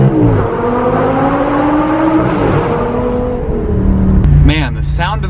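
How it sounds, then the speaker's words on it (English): A Lamborghini V10 accelerates with a loud, close engine note that rises and shifts in pitch. It finishes in a sharper burst of revving toward the end. "Man, the sound of a V10, that'll never get old."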